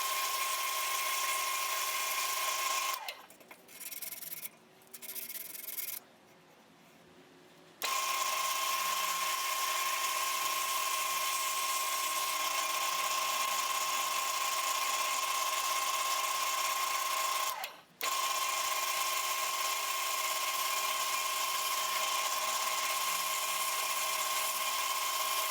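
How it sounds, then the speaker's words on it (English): Wood lathe spinning a brownheart cigar pen blank while it is sanded, a steady loud whine running nearly throughout with a few brief drops in level. "I'll take the sandpaper and I'll run it with the grain, because as this is spinning, it's going against the grain"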